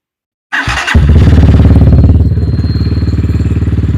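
Motorcycle engine starting up, then settling into a loud, close, steady chugging idle with a regular pulsing rhythm as the clutch is eased out into the friction zone.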